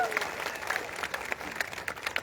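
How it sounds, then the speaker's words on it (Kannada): Audience applause at a Ramotsava committee event, a dense continuous patter of many hands clapping at moderate distance throughout, steady and even in loudness. "ತುಂಬು ಹೃದಯದ ಚಪ್ಪಾಳೆ ಮುಖಾಂತರ ಮತ್ತೊಮ್ಮೆ ಧನ್ಯವಾದ ಸಲ್ಲಿಸ್ತಾ"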